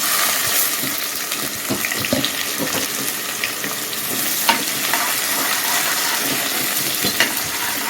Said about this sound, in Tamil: பட்டை, ஏலக்காய், கிராம்பில் இதெல்லாம் தாளிச்சுட்டு இந்த வெங்காயத்தை போட்டுக்கலாம்.